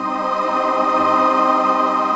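A steady, sustained vocal synth pad with a breathy, voice-like choral tone, holding evenly throughout with no speech.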